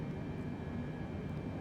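Steady low drone of Boeing 747 engines in Microsoft Flight Simulator 2020, a constant hum with a faint high tone and no other sounds.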